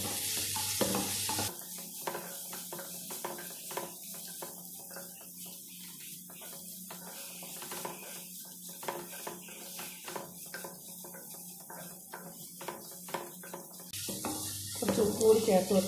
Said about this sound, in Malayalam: ചെറിയുള്ളി നമുക്ക് നന്നായി ഇളക്കി വഴറ്റിയെടുക്കണം